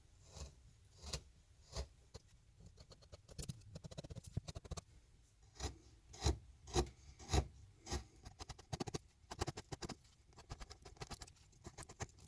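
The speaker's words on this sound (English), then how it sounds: "I often turn the chisel slightly to the right or left. It helps me to cut into the wood." Hand chisel cutting a letter R into wood with Schaaf carving tools, giving soft scraping rasps and light taps in an uneven rhythm, close and quiet with no talking.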